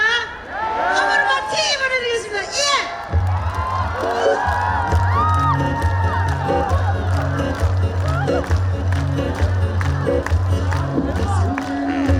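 Concert crowd at an outdoor floating stage event cheering and shouting, a loud continuous roar of voices with music thumping underneath throughout, a voice calling out over it at the start.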